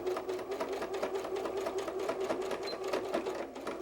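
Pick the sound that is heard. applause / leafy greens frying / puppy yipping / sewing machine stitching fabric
sewing machine stitching fabric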